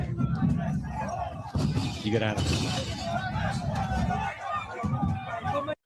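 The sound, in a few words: angry crowd chasing people with bins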